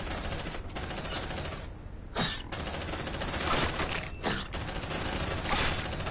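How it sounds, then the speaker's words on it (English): Gunfire during a firefight in Aliens: Dark Descent, a dense, continuous wash of rapid automatic shots and game noise lasting several seconds, with brief dips in the barrage. "Suppressive fire!"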